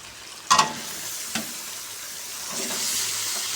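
Meat being dropped a handful at a time into a hot frying pan for a festive fried dish: two sharp sizzling splats near the start, a smaller one after, then a rising steady hiss of frying.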